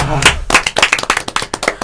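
Brief clapping in a Korean math talk show, several sharp claps in an uneven rhythm close by, with voices talking over them.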